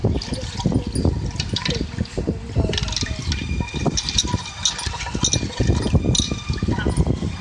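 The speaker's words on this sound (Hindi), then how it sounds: "अब हम इसे थोड़ा थोड़ा करके पानी शामिल करेंगे और इसको फेंटेंगे।" Yogurt being whisked in a bowl as water is added little by little for a boondi dish: continuous wet sloshing and slapping with occasional light clinks against the bowl, close and busy throughout.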